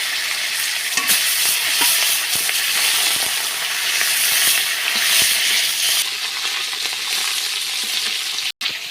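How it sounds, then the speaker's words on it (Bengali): Bhola fish frying in oil in a pan makes a loud, continuous close sizzle, broken by scattered light clicks and scrapes as the pieces are moved, with no voices. "একইভাবে এই মাছগুলো ভেজে নেবো"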